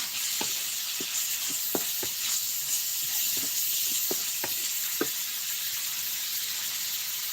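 Mixed vegetables and minced pork stir-frying in a pan, a steady bright sizzle with scattered clicks and scrapes of the spatula, fairly quiet and without talk.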